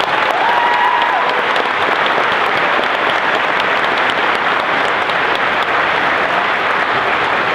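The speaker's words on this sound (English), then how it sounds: "One more round of applause, please" A large audience applauds at a graduation ceremony, steady dense clapping filling the whole stretch at full volume, with a faint cheer or whistle early on and no voices over it.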